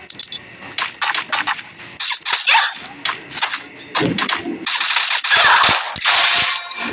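Woodpecker gun fire from Free Fire gameplay comes in sharp bursts of rapid shots separated by short gaps, loud and close, with metallic clinks between volleys.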